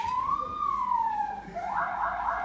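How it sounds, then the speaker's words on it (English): Police car or ambulance siren outside, a wailing tone that rises and falls steadily, fairly loud but distant, ending in a burst of broadband noise. "Oh, c'est la police."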